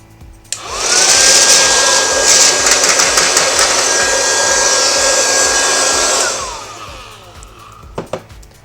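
Cheap electric PC air duster switched on, spinning up into a loud, steady high-pitched whoosh of blowing air for several seconds, then winding down, followed by a couple of light clicks.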